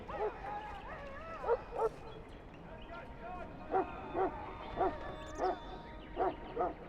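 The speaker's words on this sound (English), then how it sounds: "I fear your hound has the kitchens in uproar once again" Mabari war hound barking in Dragon Age: Origins, a run of distinct, evenly spaced barks and yips, moderately loud, with voices talking in the background.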